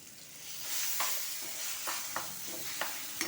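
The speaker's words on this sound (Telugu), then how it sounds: "ఇప్పుడు శుభ్రం కలిపేద్దాం." Pachadi chutney stirred in a pan over a low sizzle, with a spoon scraping and knocking the pan in several distinct strokes against a steady frying hiss.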